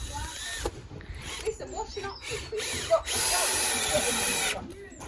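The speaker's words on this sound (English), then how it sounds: "Screwing these two bits together." A power drill drives screws to join two metal pieces for a homemade power hammer, with whirring bursts that stop and start and then a longer steady run, close by, alongside some speech.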